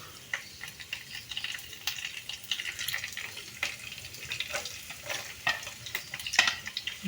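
Mustard seeds, curry leaves and rampe fry in hot oil, giving an uneven crackle of sharp pops and sizzling bursts with stirring scrapes, close and moderately quiet.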